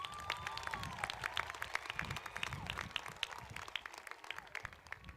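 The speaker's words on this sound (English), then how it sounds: "One more round of applause," A graduation audience at Hood River Valley High School claps in a scattered, uneven round of applause, individual claps distinct and fairly quiet, slowly thinning toward the end.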